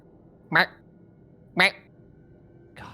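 A person vocally imitates a duck's quack during a WarCraft 3 match broadcast: two distinct, close nasal quacks about a second apart, with the start of a third cut off at the end.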